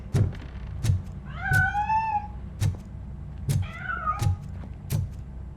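A cat in Robocop: Rogue City lets out two drawn-out, wavering meows amid a series of heavy, regular thumping footsteps, close and fairly loud.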